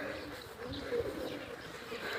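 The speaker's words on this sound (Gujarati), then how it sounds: "કેટલા બધા છે જો કબૂતર જ છે બધા" A large flock of pigeons at a Mahakali Mata temple coos in a soft, continuous murmur, with a steady, crowded hum of overlapping calls close at hand.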